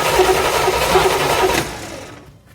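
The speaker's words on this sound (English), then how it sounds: "I'm gonna have my brother crank it" A 1979 Corvette L82 V8 cranks on the starter after a carburetor rebuild, a steady whirring churn lasting about a second and a half before it fades off. The engine does not catch, and no one talks.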